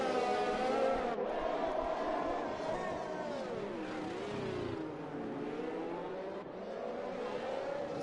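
Race car engine of a McLaren in a video game at Monaco, a steady high whine with shifting pitch as it accelerates and revs, sustained and fairly loud, with a commentator talking over it.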